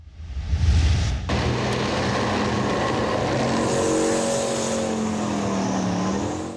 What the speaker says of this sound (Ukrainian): Ефектний поліцейський розворот демонструє танк Т-64 на полігоні Харківського бронетанкового заводу